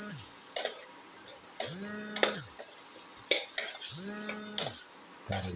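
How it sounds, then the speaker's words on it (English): A utensil stirs and scrapes salted potato pieces as they sauté in a pan, producing a few separate bursts of metallic scraping and clinking with quiet gaps between them. "Thoroughly saute and mix."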